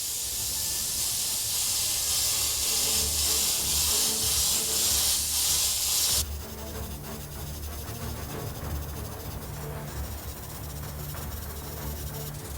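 An airbrush sprays opaque sand-colored paint in a steady, loud hiss that cuts off abruptly about halfway, leaving a quieter room background with faint clicks.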